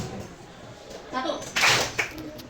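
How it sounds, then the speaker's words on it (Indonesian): A classroom of children claps hands together in a short, loud burst of overlapping claps, with a voice speaking before and after the clapping. "Tepuk tangan."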